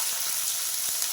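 Ash gourd pieces sizzling in hot oil with a five-spice tempering, dried red chillies and a bay leaf, a steady, close hissing fry with faint soft pops, with no talk.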